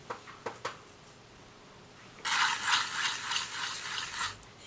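An old toothbrush spattering watercolor paint onto a travel journal page, a dense, fine scratchy flicking that runs for about two seconds after a few light clicks, close and fairly quiet.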